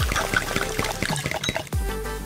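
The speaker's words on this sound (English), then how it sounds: "Then add some heavy cream." Heavy cream pouring into melted green candy, a soft liquid stream with faint drips and light clinks close by, with no talk.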